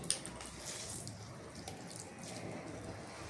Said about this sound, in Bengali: দেখো এরকম করে আমি পুরোটা জলটা চিপে নেব এরকম করে